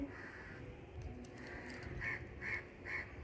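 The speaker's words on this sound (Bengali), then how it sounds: "আর মাঝে মাঝে যে কাক ডাকছে পাখি ডাকছে" Crows caw a few times in the distance, three faint harsh calls near the end over a steady outdoor background hum on a hot sunny day.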